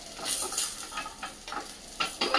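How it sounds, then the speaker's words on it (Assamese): Paneer pieces frying in a little oil sizzle softly nearby, with uneven bursts of stirring and scraping in the pan. "দেখিছেনে মোৰ বুদ্ধিটো কিমান কম তেলত মই ভাজিলোঁ একেপিচ পনীৰ"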